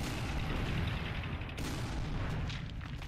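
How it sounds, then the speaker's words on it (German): Artillery fires in the strategy game Panzer Corps Gold, a faint, dense wash of distant booms and crackling bursts with one sharper blast partway through. "Okay, Artillerie schießt."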